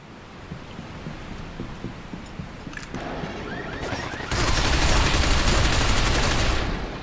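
Submachine gun fire in the sci-fi shooter Binary Domain, with scattered shots in a sewer level that build into a loud, sustained burst. No one talks.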